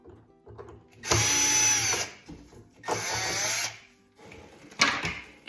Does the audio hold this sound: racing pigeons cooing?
no